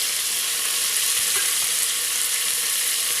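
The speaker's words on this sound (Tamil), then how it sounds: "பாருங்கள், இப்போ கடுகு நல்லா பொரிஞ்சிட்ருக்கு" Mustard seeds sizzle and splutter in hot oil for mutton kothukari, a dense close crackling hiss that holds steady throughout with no voices.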